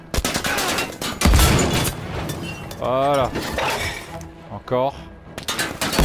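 Cannon fire in the World War II shooter Battlefield V booms in sharp, loud blasts amid crashing battle noise, while someone speaks briefly between shots.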